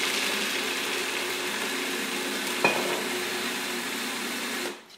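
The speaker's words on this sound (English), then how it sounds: "I'm going to grind that up." A food processor grinds pesto ingredients with about a quarter cup of olive oil, a steady whirring motor drone that runs evenly for several seconds, then cuts off abruptly at the end.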